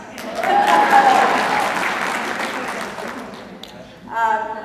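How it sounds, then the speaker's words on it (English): Audience applause at a women's conference swells for about three seconds and then fades, with a voice cutting in near the end. "Now you can clap after I say this."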